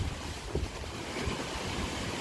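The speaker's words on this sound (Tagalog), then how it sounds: "Ang lakas ng alon mga kalingap." Strong ocean waves wash in a steady, loud roar with wind buffeting the microphone, a dense continuous surf noise close by with no talking.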